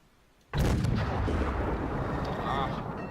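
A KV-85 tank cannon fires in World of Tanks: one sudden, loud, close blast that opens into a long rolling rumble and keeps booming to the end.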